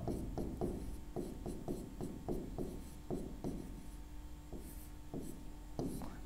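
Chalk or marker writing on a board during a chemistry lesson: a quiet series of short, rhythmic strokes and scratches, fairly close, with no talking over them.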